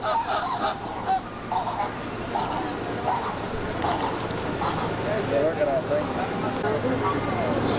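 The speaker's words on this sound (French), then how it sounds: "mais en tout cas, c'est des flamants roses" A flock of flamingos in California honks and gabbles, with repeated nasal calls rising over a busy background, some close and some farther off, and people talking in the mix.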